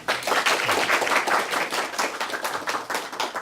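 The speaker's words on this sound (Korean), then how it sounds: "좋은 강연 펼쳐주신 정세균 의장님께 다시 한번 큰 박수 부탁드립니다." An audience at a lecture by Korea's former National Assembly Speaker gives sustained, dense applause, loud and close, continuing for several seconds without speech.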